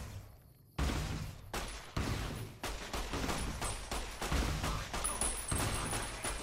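Rapid bursts of gunfire in Fallout New Vegas, a sharp opening shot followed by a dense run of overlapping shots and impacts, loud and close with no talking.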